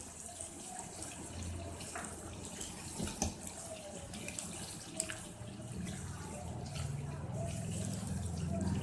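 Water runs steadily into a cooking pot holding browned onions and oil, a faint continuous pour with small splashes and clinks, growing slightly fuller toward the end.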